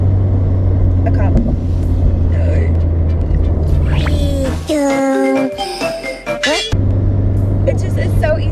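A turbocharged Subaru BRZ driven hard through tight canyon corners, engine droning steadily with pitch sweeping up and down between shifts, loud and close from inside the cabin, with a brief break midway.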